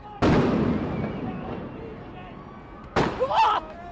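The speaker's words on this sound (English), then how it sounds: "The LAPD moving in on horseback, firing rubber bullets at protesters." Police fire rubber bullets at protesters during a street protest in Los Angeles, with officers on horseback nearby: two sharp, loud bangs about three seconds apart, each followed by a reverberating tail, with a voice heard after the second.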